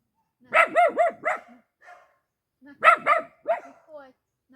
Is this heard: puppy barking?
yes